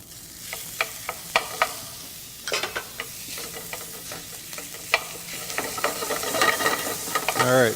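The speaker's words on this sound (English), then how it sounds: "The garlic's just starting to brown." Garlic frying in a pan for a Moroccan scrambled egg tartine, a spatula tapping and scraping in quick irregular strokes over a soft sizzle that swells louder toward the end, close up with no voices.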